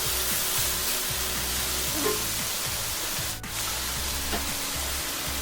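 Chicken and chorizo paella ingredients with garlic and onions frying in a cast iron pan, a steady close hiss of sizzling oil running throughout with no talk over it.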